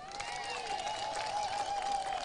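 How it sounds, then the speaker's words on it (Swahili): A crowd at a political gathering in Kenya claps in a brief burst of applause, steady and moderately loud, with a thin whistling tone running underneath. "Tuko hapa na Dr. Stephen Kalonzo Musyoka, mpigie makofi,"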